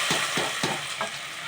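Dried red chillies and curry leaves crackle in hot oil as the tempering for tamarind-leaf dal is stirred, a few soft stirring scrapes over a steady quiet sizzle, close and fairly faint.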